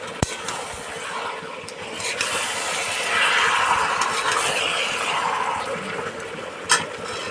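Marinated chicken with chopped onion and garlic paste sautéing in a pan, a continuous broad hissing sizzle that swells in the middle, with a few sharp clicks of a utensil, close and fairly loud, no talking.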